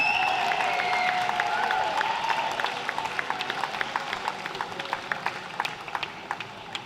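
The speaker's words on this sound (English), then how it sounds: "So guys, come on, a huge round of applause for Simon." An audience at a regional short course swimming championships claps and cheers in a large echoing pool hall, starting as loud sustained applause and thinning into scattered claps.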